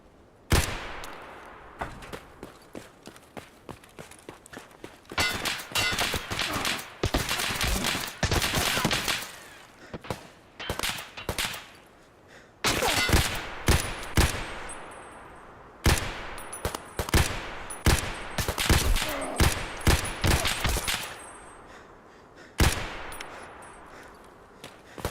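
Bursts of automatic gunfire from the video game Escape from Tarkov, loud and close, coming in repeated rapid volleys separated by short pauses, with sharp single shots at the start and end.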